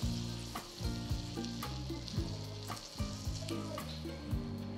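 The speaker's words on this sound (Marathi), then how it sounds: "चला, आता ही दुसरी बाजू पण मस्त अशी खरपूस होईपर्यंत भाजून घ्यायची." A dabeli bun toasting crisp on a hot pan gives a loud, close, continuous sizzle, with rhythmic pulses and occasional scraping.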